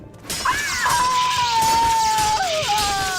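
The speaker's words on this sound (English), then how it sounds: "Can you please not scream as loudly?" In the video game Morrowind, a woman lets out a loud, sustained scream that wavers in pitch, rising and dipping over a continuous background of game noise.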